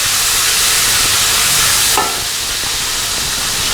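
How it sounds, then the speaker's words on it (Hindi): Loud, steady sizzle of onions frying with ginger garlic paste in a pan for kofta biryani, a dense hiss filling the whole clip with a stirring scrape midway and no talk. "और इसको हमने गोल्डन ब्राउन होने तक फ्राई करना है।"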